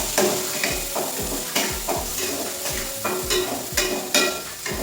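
Tongseng beef spice paste being stirred in a wok over a very low flame: a steady sizzle with repeated scraping strokes of the spatula about once a second, close and fairly loud, no voices.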